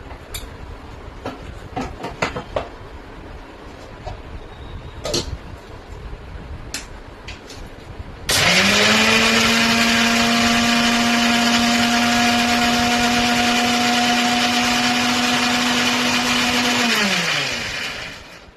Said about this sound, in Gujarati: હવે આપણે આ બધાને મિક્સર જારની અંદર ગ્રાઇન્ડ કરી નાખવાનું છે.